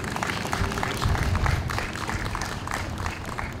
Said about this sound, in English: Please give another round of applause for Bryn.